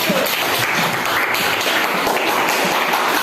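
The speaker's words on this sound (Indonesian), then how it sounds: "silakan tepuk tangan untuk kelompok 1" Classroom applause from students clapping for a student group, a dense, steady patter of many hands filling the clip from start to finish, with no talking.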